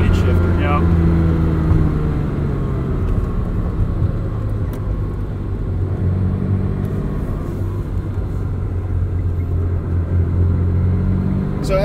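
A 1984 Ferrari 512 BBi driven from the cockpit, its engine a constant low drone with steady tonal hum and road roar, loud and unbroken throughout.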